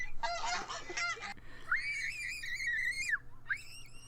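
Geese honk loudly and close by, first a cluster of quick harsh calls, then a long drawn-out nasal honk and another starting at the end.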